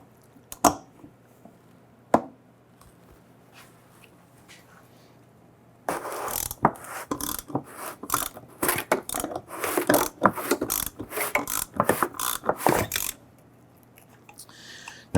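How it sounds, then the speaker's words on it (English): A lock ring tool works the fuel pump lock ring loose on a 1997-2006 Jeep Wrangler: a dense burst of sharp, close ratcheting clicks and knocks that runs for about seven seconds after a few isolated taps. "We're going to use our lock ring tool."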